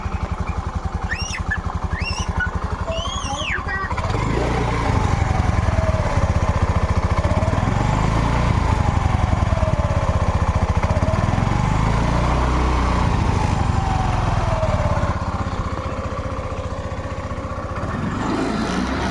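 A 2016 Honda Activa scooter engine runs close by with a loud, continuous buzzing drone that rises and falls in pitch as it is revved, then settles back toward idle.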